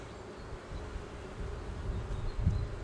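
Honeybees hum at an open hive during a spring inspection at a bee yard, a dense low buzz that swells slightly toward the end with a nearby bee passing close, no voices.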